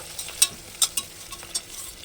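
Onions fry in a pan for paneer biryani, a soft, low sizzle with several crisp ticks and spatula clicks spaced through the moment, close by and fairly quiet, with no speech.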